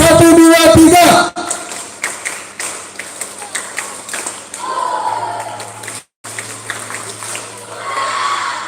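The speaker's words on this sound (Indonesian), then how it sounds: "Tepuk tangannya meriah buat kita semua" Students applauding in a school hall at a vocational high school in Padang, scattered uneven claps and taps after a brief loud burst of voices, with talk and room noise running underneath.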